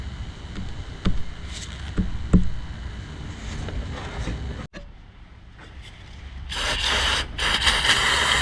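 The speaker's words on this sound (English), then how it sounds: "This is for the WD-40." WD-40 bursts from a can in a loud hissing spray near the end, following quieter handling noises and a low background hum while cleaning a Toyota Kluger/Highlander camshaft timing oil control valve.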